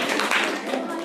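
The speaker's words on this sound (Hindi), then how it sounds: "जोर से तालियां बजा दो एक बार।" An audience at a government school event in Rajiv Nagar, Dehradun, claps in a short, dense burst of applause close by, with voices mixed in.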